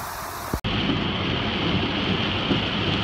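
Steady heavy rain and wind roar from tropical storm Hermine fill the air after a brief cutoff, a constant wash of sound with a low rumble beneath it.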